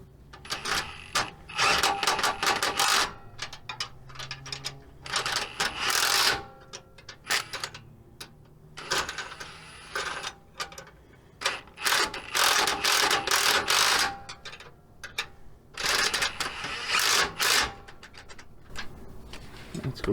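Ratchet tightening bolts on a Hummer H3 differential drop install, with repeated bursts of rapid clicking separated by short pauses, close and fairly loud.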